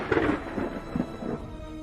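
Thunder rumbles in a series of low, rolling booms with a steady wash of rain-like noise underneath, heavy but somewhat distant, with no voices.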